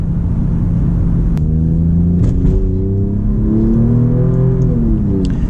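An Alfa Romeo Giulia Quadrifoglio engine revs hard in manual mode around a shift into third, a loud, close, rising mechanical drone with climbing tones and brief sharp cracks near the end.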